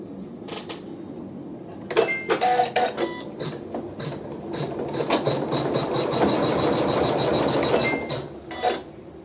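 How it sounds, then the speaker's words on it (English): A home embroidery machine tacks fabric down at reduced speed, giving a rapid mechanical chatter of needle strokes with clicks and rasping pulses, close and fairly loud, briefly pausing and restarting. "the machine is going to tack this down"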